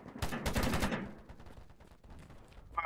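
MK14 rifle fire in the Polygon free-to-play shooter: a rapid burst of loud, close shots in the first second, then lower scattered game noise and a short sharp sound at the very end.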